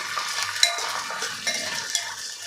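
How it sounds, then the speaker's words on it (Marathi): Green peas and cashews sautéed and stirred in a pressure cooker for pulao, with soft frying sizzle and light scraping and clinks of a utensil against the pot, close and fairly quiet, no talk. "इथे मी दीड कप मटार स्वच्छ करून धुवून घेतलेला आहे आपल्याला दोन ते तीन मिनटे परतून घ्यायचं आहे"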